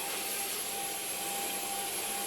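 A new household vacuum cleaner running indoors, a loud steady whooshing roar with a thin high whine, unbroken throughout.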